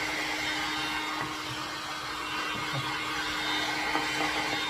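An air blower drying a repaired engine ECU part from a Mercedes W212 E200, a steady loud whooshing hiss running without pause throughout.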